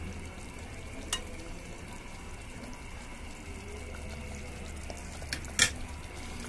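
Sardines sauté with onion, garlic and tomato in a pan, making a soft, steady sizzle and bubbling, with a few faint clinks of utensil stirring.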